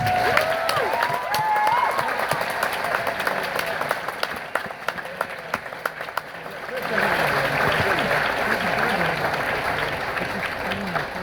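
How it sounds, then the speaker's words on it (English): A bookstore audience at a Brandon Sanderson Oathbringer book signing in Portland breaks into steady, full applause that runs the whole stretch, swelling again near the end with scattered cheers mixed in. "Let's clap for them."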